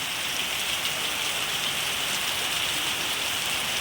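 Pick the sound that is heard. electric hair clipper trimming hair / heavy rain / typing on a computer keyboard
heavy rain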